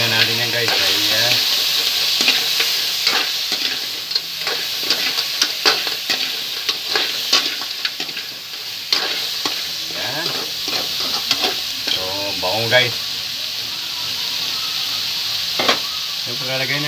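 Crabs with string beans and vegetables sautéing in a pan, with steady sizzling and repeated scraping stirs across the whole stretch and occasional brief talk in the background.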